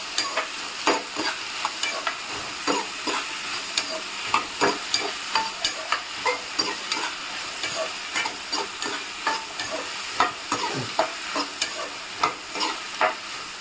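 Steady frying sizzle in a pan with regular scraping strokes of a spoon stirring through the food, close up and without talk.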